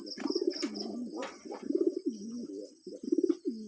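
A female Sirazi pigeon coos in repeated low, throaty rolling phrases close by, several bursts in a row, over a steady high electronic whine and faint background clicks.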